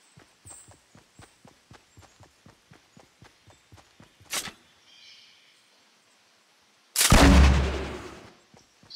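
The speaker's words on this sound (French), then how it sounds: "Je vais sniper." Sniper rifle shots in the Fortnite video game, a steady run of evenly spaced sharp reports, then a louder isolated crack and a big, loud burst of noise that slowly decays.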